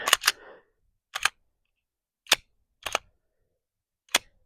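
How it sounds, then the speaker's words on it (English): Sharp, dry reports from a Glock 19X MOS pistol fitted with an Agency Arms 417 compensator, a handful of isolated close bangs spaced irregularly over a few seconds, with silence between them. "it did shoot the round. It cycled it, but it never loaded another one."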